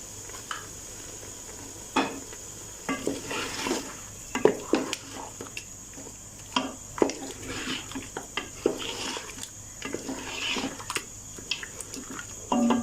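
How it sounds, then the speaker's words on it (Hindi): Mutton with cream fries on medium heat in a pan, a low continuous sizzle broken by frequent scraping and clinking stirs at an uneven pace, fairly close and moderately quiet. "इसे मीडियम आंच पे अभी अच्छे से भून लेंगे।"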